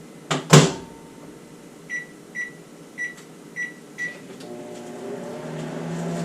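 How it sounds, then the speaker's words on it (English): A couple of sharp clunks on a microwave oven, then five evenly spaced electronic beeps, followed by its low steady hum as it runs. "And then into the microwave for 30 minutes."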